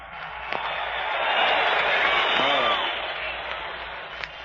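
A 1936 heavyweight boxing crowd at the Joe Louis versus Jack Sharkey bout cheers and applauds in a broad, sustained roar that swells and fades, heard through an old radio broadcast under an announcer's talk.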